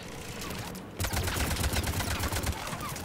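Sustained gunfire in the video game Mass Effect 3, a rapid stream of shots that cuts out briefly and then resumes louder, ringing steadily for a few seconds.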